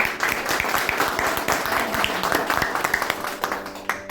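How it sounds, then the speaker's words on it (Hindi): Dense audience applause at a motivational training session fills the room, many hands clapping steadily and loudly throughout, with a brief dip near the end. "एक भरपूर सी तालियां अपने लिए आज"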